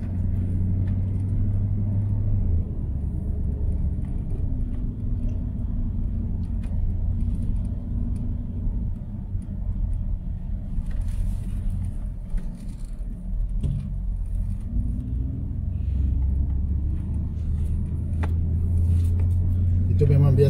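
Cars drive along a residential street in Al Awali, Makkah, a steady close engine rumble and road noise running throughout with no breaks, the way it sounds from inside a moving car.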